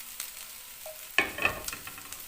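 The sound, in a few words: vegetables and cabbage stir-frying for chow mein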